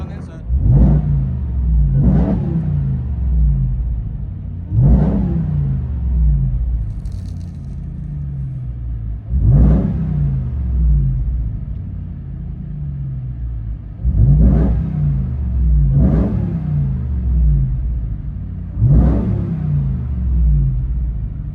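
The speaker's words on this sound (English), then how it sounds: "Ram TRX, straight pipe." Straight-piped Ram TRX pickup heard from inside the cabin: loud, deep exhaust rumble punctuated by about seven sharp rev blips at irregular intervals of two to five seconds.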